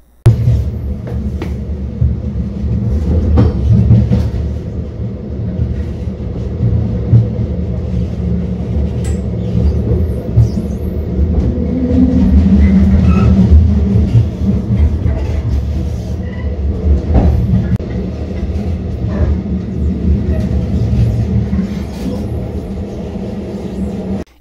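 A passenger carriage on the mountain rail line between Mallnitz and Bad Gastein rolls steadily, giving a continuous, fairly loud low rumble with faint clacks throughout.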